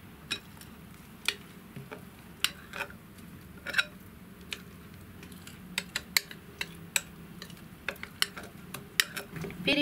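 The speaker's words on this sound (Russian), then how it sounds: "Перемешать до однородного состояния." Kefir and semolina batter is stirred in a bowl, a quiet close series of sharp taps and clinks from the utensil against the bowl, irregular and frequent, over a faint background hum.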